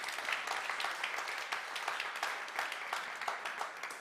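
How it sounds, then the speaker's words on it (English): Audience applause at a startup demo day event, steady dense clapping from a crowd sustained throughout, moderately loud without breaks. "Let's clap those hands so they give us the money next year too"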